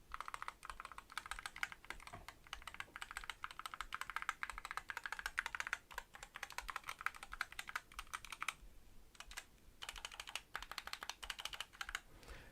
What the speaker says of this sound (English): So, keys, what do they sound like?